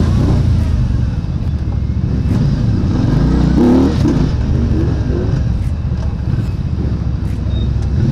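SYM Husky ADV 150 or Benelli Motobi 200EVO motorcycle on a test ride on a city street, its engine droning steadily and loudly with wind rush and a brief surge of revving, with no talking.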